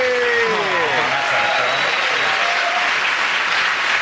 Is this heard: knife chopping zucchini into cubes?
no